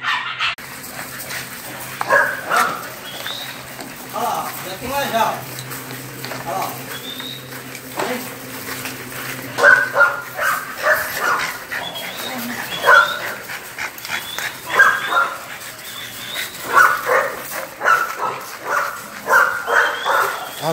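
Several dogs at a kennel bark repeatedly with yips and whimpers, loud and close, a busy overlapping chorus that continues throughout while someone talks over it.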